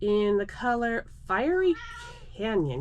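A pet Siamese cat meows repeatedly in long, drawn-out, attention-seeking calls, close and loud, with a voice speaking between the meows.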